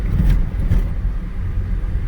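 A 2008 Saab 9-3 Sportcombi driving on the road, its engine and tire rumble a steady low drone, loudest in the first second and then evening out, heard from inside the car with no talking.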